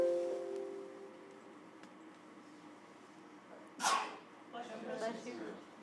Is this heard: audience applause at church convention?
no